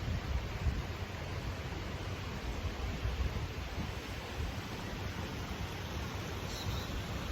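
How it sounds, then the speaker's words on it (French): Wind blows outdoors beside a river, making a steady broadband rush with low buffeting that carries on without a break. No one speaks. "Et aujourd'hui, le vent est ma musique."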